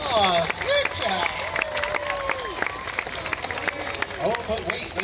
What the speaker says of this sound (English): Let's give all of our visiting royalty another round of applause.